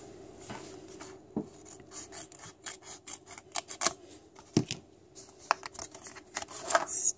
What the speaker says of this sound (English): let's cut this out here